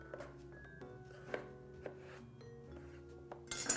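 A knife slicing straight down through a potato to cut fries, giving a few soft, separate chops and thuds on a board at close range, quiet and with no talk.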